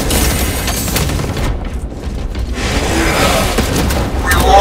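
A crack grenade goes off in Warhammer Space Marine 2, a loud burst amid constant gunfire and blasts of a chaotic online battle, the roar dipping briefly and then surging again.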